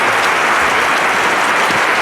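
Dense, close applause from a crowd fills the whole moment after an attempt, a steady wash of clapping with no pauses.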